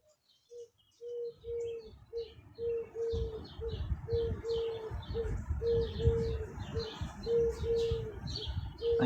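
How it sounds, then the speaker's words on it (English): Many birds outdoors, with a steady repeating coo running throughout over busy chirps and tweets, plus a low rumbling background, no talk. "there's a lot of birds."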